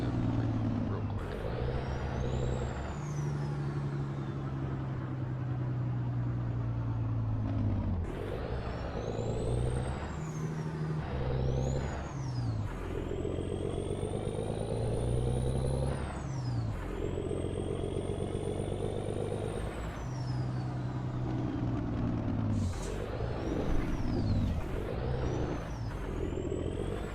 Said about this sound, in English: Do the Jake brake.